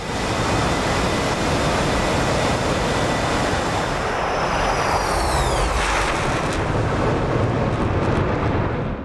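F-22 Raptor and F-16 Viper jets flying in formation in the combat flight simulator DCS World, a steady loud roar of engine and wind noise, with a brief rising whine as one jet passes near.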